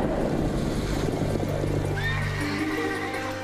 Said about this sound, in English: When Lisa Parker struggled to rescue her beloved horse, she fell in herself